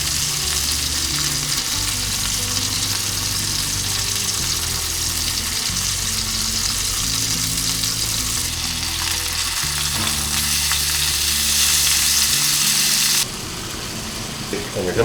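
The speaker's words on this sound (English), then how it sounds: "just lay your cutlets in there. And if you cut them thin, they really don't take too long to cook." Thin steak cutlets fry in a hot pan with a loud, steady, close sizzle that runs throughout, with a low tonal backing underneath.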